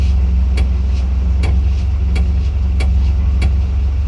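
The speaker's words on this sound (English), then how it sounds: "this noise when I put the clutch in." A Renault Twingo engine idles steadily while a faint, repeated mechanical ticking sounds from the clutch at a regular rhythm.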